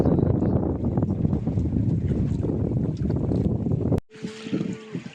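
A boat moves along a Sundarbans river during the monsoon fishing season, giving a loud, steady rush of engine and water noise that cuts off abruptly into a quieter tonal hum near the end.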